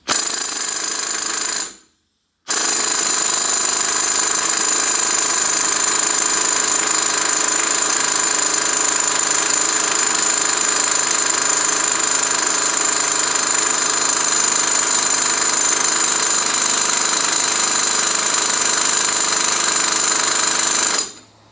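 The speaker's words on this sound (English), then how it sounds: "Might be a good idea to break this before you lift it up, break the nut free." A power tool hammers loudly and continuously at the axle nut on a 1997-2005 Blazer four-wheel-drive hub assembly. There is a brief pause near the start, then about nineteen seconds of steady rattling with no one speaking.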